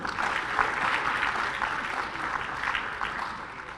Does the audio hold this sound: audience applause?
yes